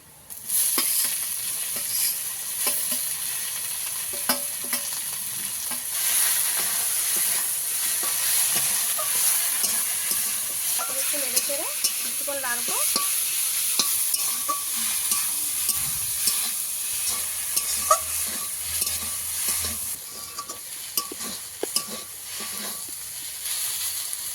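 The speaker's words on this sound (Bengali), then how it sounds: "একটু তেলে ভাজা হবে সব কিছু মিশিয়ে দেবো একসঙ্গে" Continuous frying hiss with intermittent clicks and scrapes of stirring, leafy greens sizzling in oil at close range, no talking.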